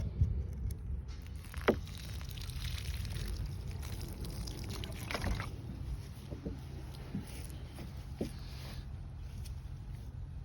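Water saved from a fish tank pours from a container onto a growing plant, a steady close splashing trickle with small drips and knocks, no voices.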